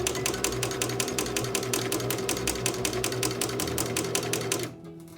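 A home sewing machine stitches fabric at a steady rapid clatter with a constant motor hum, running evenly for several seconds before stopping abruptly.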